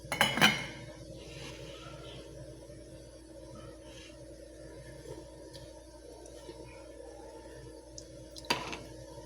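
A lid clanks onto a cooking pot of bamboo shoots, a sharp close metallic clatter at the start, then quiet kitchen ambience and one more brief clink near the end.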